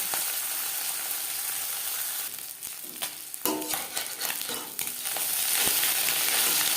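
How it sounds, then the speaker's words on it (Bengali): Small marine mourola fish frying in hot refined oil, a steady close sizzle that crackles and spatters more busily as fish are added in batches, then settles into a louder even hiss. "অল্প অল্প করে মাছ দিয়ে নেব তাহলে ভাজাটা ভালো হবে"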